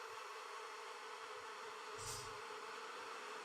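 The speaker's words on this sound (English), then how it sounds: "And you hear the flies buzzing." Flies hovering over bones in Fallout New Vegas make a faint, steady insect buzz beneath a constant ambient hiss, swelling briefly once near the middle.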